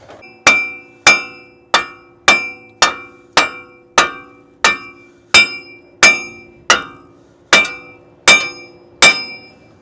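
Metal hammer strikes ring out on a Ram 2500 axle U-joint, about sixteen sharp, loud, evenly spaced clanging blows with a short metallic ring after each, no talk.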